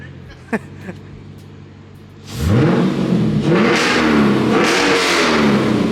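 After a quiet idle and a couple of clicks, a modified car engine with a muffler delete roars into a loud rev, climbing and sweeping in pitch through several throttle blips.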